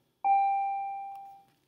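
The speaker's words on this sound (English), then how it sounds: "And there's the bell." A single bell strike in a classroom, one clear ringing tone that decays slowly over more than a second, then a brief click at the end. There is no talking.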